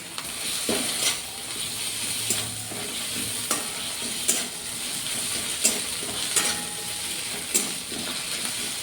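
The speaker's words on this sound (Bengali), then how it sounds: "একটু ভাজা ভাজা করে নিই" Garlic, ginger and green chilli paste fries with onion in a pan, a steady close sizzle broken by regular scraping strokes of a spatula roughly every second.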